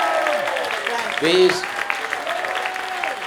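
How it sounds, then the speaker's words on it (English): An audience at an APSS tribute show applauds steadily, the clapping sitting under a speaker's voice that carries over it throughout. "How about one big last really great round of applause"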